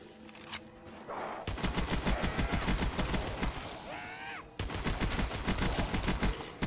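Slow-firing gun in Black Ops 3 Zombies on a custom cabin-in-the-woods map, shooting a loud, regular train of evenly spaced shots with a brief pause midway and game sound effects in between.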